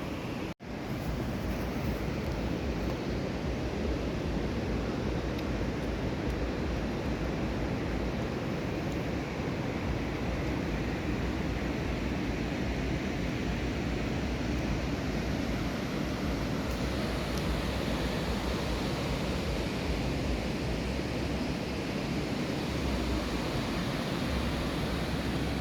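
Rushing water at Bhimkund waterfall in Mayurbhanj, Odisha: a loud, unbroken broadband roar of falling and churning water, steady throughout with some wind buffeting on the microphone.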